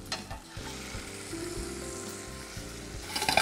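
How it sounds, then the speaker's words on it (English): Fish fillet and mushrooms sauté in butter in a hot pan, giving a steady, close sizzle throughout, with a brief clatter near the start and a rise of crackling toward the end. "while the mushroom is sautéing, we'll flip our fish right here"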